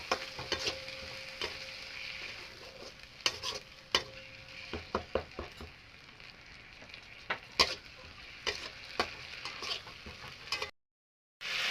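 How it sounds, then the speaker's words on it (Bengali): Mustard masala fries in a pan with water added, giving a steady sizzle broken by repeated sharp clicks and scrapes of stirring, before a brief silence near the end. "এখন মশলাটা পুড়বে দেখুন ভালো করে ভাজি নেব সরিষাটাকে"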